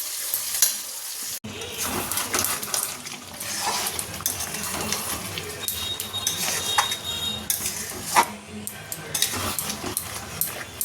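Chicken thigh pieces sizzle in a pan while a utensil stirs them, with repeated scraping and clinking of metal on the pan over a steady frying hiss, close and moderately loud.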